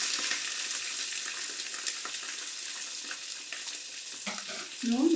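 Marathi moggu, onions and green chillies frying in hot oil in a pan, giving a continuous crackling sizzle with light stirring clicks, fairly quiet, ending with a brief clatter.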